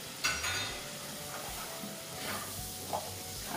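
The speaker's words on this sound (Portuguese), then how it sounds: "Mexer aqui." Flour being stirred into margarine and chopped onion in a hot pan, with a soft steady sizzle and faint scraping strokes of a utensil against the pan, no voices.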